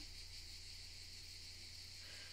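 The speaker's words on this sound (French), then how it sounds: "Août 2020, écoutez les cigales." Cicadas drone steadily on an August day during a heatwave, a continuous, even buzzing chorus with no pauses and no voices.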